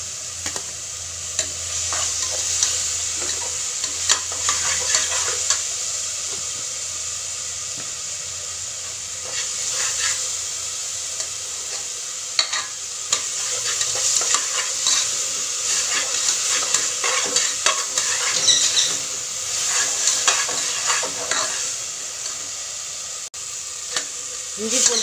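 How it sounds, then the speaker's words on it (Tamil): Ginger garlic paste sautéing in a pan for a vegetable kurma, a steady close sizzle with scraping stirs throughout, alone with no talk. "இஞ்சி பூண்டு நல்லா வதக்கியாச்சு."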